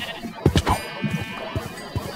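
Sheep in the Minecraft video game bleat in a few short, nasal calls over about two seconds, close and fairly loud, with faint game background between them.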